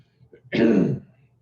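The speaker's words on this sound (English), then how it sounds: "I'm going to pause every time I have to cough." A single throaty cough or throat clearing, close and fairly loud, with quiet room noise before and after.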